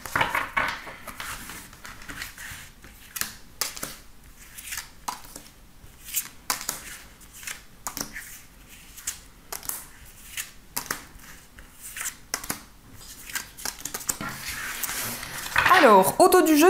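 Tarot cards are handled and shuffled in repeated soft bursts of riffling and slapping, close and fairly quiet, while someone talks in French throughout.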